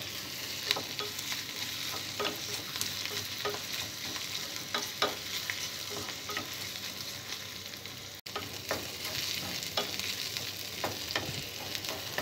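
Onions sizzle and crackle steadily in a hot pan, with small scraping stir sounds and pops scattered throughout.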